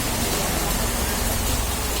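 Steady rain pours down outdoors, a dense, even hiss of falling water that holds at the same loudness for the whole stretch, with no other sound standing out.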